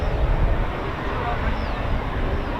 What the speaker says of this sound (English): So you can hear a EJ200 engine on the start up there.